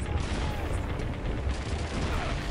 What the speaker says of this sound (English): Okay, I'm firing the artillery right there.